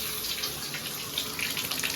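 Water runs steadily from a tap as an electric water heater tank finishes filling, a continuous rushing hiss with no talking.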